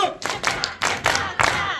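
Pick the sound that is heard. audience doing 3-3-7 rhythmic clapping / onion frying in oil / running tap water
audience doing 3-3-7 rhythmic clapping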